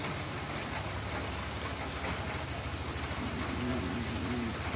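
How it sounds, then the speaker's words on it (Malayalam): Heavy rain pours down in a dense, constant hiss, steady and enveloping with no breaks, close around the listener. "ഒന്നും പറയണ്ട, ഹെവി റെയിൻ പെയ്തിട്ടോ."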